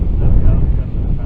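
Wind buffets a microphone outdoors at a rocket launch viewing site, a loud low rumbling roar that fills the brief moment without pause.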